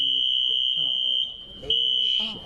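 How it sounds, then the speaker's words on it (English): A loud, steady high-pitched fire alarm tone sounds continuously during a public hearing while a person talks underneath it. "Fire alarm? Didn't realize"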